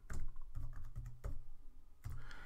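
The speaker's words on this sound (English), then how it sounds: "just clicking on the new button and typing in the new name" Names are typed on a computer keyboard while templates are set up in Creo Parametric, a quiet burst of close keystrokes clicking in uneven clusters, with a short pause before a final few taps.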